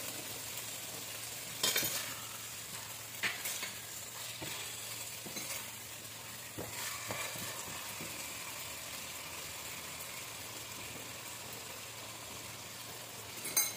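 Tofu with chili is stirred in a pan over a faint, steady sizzle, marked by scattered spatula knocks and scrapes, quiet and close with no speech.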